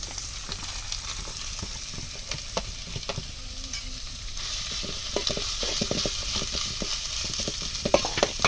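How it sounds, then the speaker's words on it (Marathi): Chopped onion hits a pan of spicy village-style chicken masala cooking over a wood-fired stove, frying with a steady sizzle while a spoon stirs and scrapes repeatedly, the clacks growing busier toward the end, with no voices. "त्याच्यामध्ये गेला कांदा"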